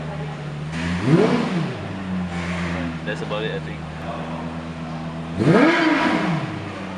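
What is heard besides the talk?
Lexus LFA engine revving in sport mode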